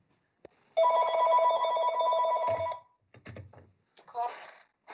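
A telephone rings during a municipal council meeting, a bright warbling electronic ring lasting about two seconds at moderate loudness, followed by brief speech fragments.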